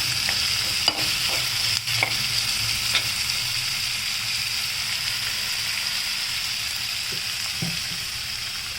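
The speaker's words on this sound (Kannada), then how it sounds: "ಇದು ಹಸಿ ವಾಸನೆ ಹೋಗೋವರೆಗೂ ನೀವು ಚೆನ್ನಾಗಿ ಈ ಥರ ಹುರ್ಕೊಳ್ಳಿ ಇದನ್ನು" Onion masala for paneer curry fries and is stirred in a pan, a steady close sizzle running throughout with the occasional scrape and knock of the spoon against the pan.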